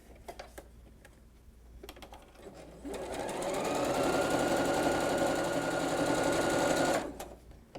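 A sewing machine stitches a quilt row together, with a few light clicks and handling sounds before a steady, close mechanical whir that runs for several seconds and then stops.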